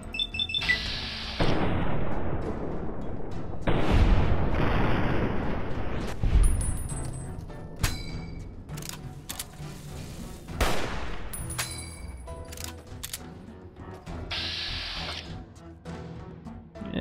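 Gunfire in Fallout: New Vegas from the companion Arcade's weapon, several loud bursts of rapid shots and booming reports mixed with game combat noise, broken by brief pauses.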